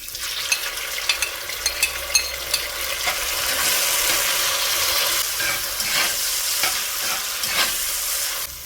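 Chopped onion and tomato frying in a pan for a drumstick and potato curry, a continuous loud close sizzle with scraping spatula stirs and a few sharp clicks.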